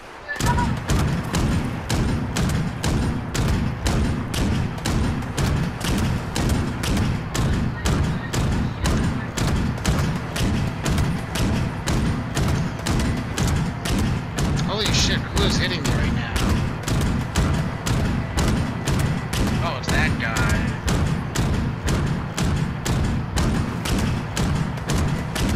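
Rapid, sustained automatic gunfire from Fallout 76 rattles on without a break, dense regular bursts of shots with heavy thumping low end filling the whole stretch.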